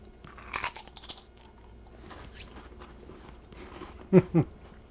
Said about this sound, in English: Hear how crunchy they are.